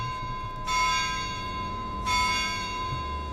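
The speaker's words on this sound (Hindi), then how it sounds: "उन्होंने बिना एक पल गंवाए घंटी बजाना शुरू कर दी" A brass bell rings twice, each clear strike followed by a long shimmering ring that fades, about a second and a half apart.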